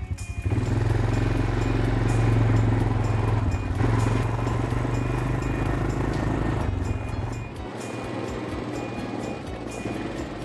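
A four-wheeler ATV engine drones loudly and continuously nearby, a rough low rumble that holds steady, then eases slightly toward the end. No one speaks over it.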